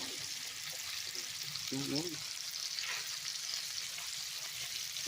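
Lamb chops sizzle quietly in a hot pan, a soft continuous frying hiss with a brief spoken word partway through.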